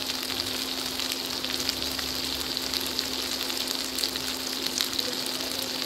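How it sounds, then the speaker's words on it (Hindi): Chicken tikka gravy sizzles in a pan, with a steady, dense crackle that holds evenly throughout and has no voices over it. "देखिए पक रहा है"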